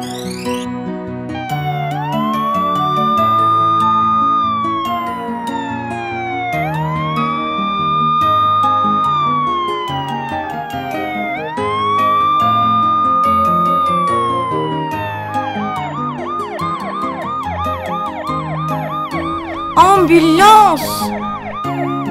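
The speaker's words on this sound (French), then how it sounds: "Ambulance." A loud ambulance siren wails in long rising and falling cycles over a layered musical backing in a children's cartoon, ending in a burst of brighter, busier tones.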